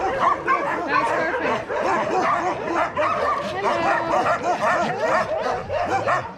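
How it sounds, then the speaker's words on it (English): Dogs at an animal shelter in Kyiv, Ukraine, bark and yip nonstop, a dense overlapping chorus of many dogs nearby with whimpers mixed in, loud and continuous throughout. "these dogs are all barking like crazy"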